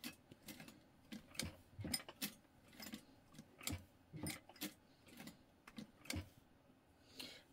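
A tiny hand-cranked sewing machine stitching appliqué, producing soft, irregular ticking and clicking stitches at a quiet, close-up level.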